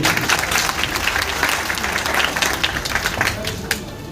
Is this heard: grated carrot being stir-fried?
no